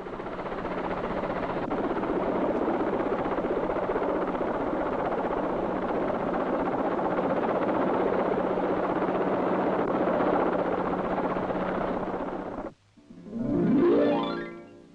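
A helicopter hovers over a ship at sea in a strong breeze, its rotor and engine a loud, steady roar for about twelve seconds before cutting off, followed by a brief rising whoosh.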